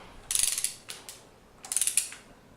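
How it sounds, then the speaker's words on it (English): Ratchet with a 10mm hex driving gear box bolts on an MK S pump, two close bursts of quick metallic clicking separated by a short pause, with a few single clicks between them. "Use a ratchet with a 10mm hex to tighten the bolts."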